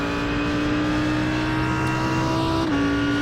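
An Audi R8 GT3 race car at full power at Imola in a racing video game, its engine a loud sustained high drone that climbs steadily, then dips briefly as if changing gear.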